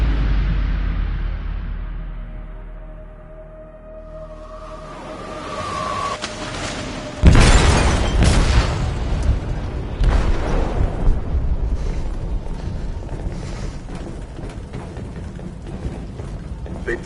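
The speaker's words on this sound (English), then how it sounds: "They detonated an explosive in the hold." A heavy blast of an explosive detonating in a ship's hold in Detroit: Become Human, preceded by a low rumbling build-up and followed by sustained roaring, crackling debris and groaning metal.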